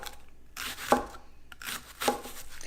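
A knife cuts vegetables into very thin slices for a chicken and pasta dish, with two distinct, close slicing strokes against a board separated by quiet pauses.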